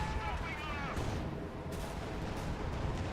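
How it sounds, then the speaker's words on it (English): Distant booming artillery-like blasts from a mortar carriage firing long-range rounds in the World War II strategy game Company of Heroes 2, several thuds rolling through a rumbling battle din with a voice talking over it. "this mortar carriage is doing some nice long-range hits"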